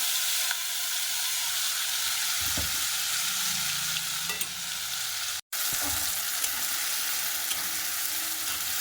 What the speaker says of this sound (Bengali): মশলাটা কষাতে থাকবো।